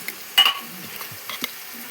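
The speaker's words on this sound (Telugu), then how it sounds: "సరే, ఇలా వేగుతుంది అన్నమాట." Food frying in a pan while being stirred, with salt and turmeric going in: a soft sizzle marked by a few short scraping bursts, close and fairly quiet, with no talking.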